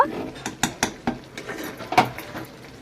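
Spoon stirring boiled Malabar spinach, pumpkin and potato in a pot, heard as a series of short, fairly close scrapes and clinks in an uneven rhythm with no talking.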